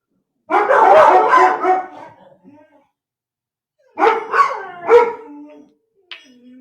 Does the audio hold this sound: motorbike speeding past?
no